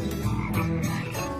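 A northern leopard frog croaks in a series of quick, rattling pulses, clear and fairly close with no talk over it.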